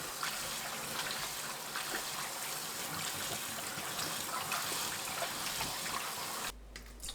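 Mustard greens being washed by hand in a sink of water, with continuous splashing and trickling close by for most of the span, ending in a short quieter stretch; no talking.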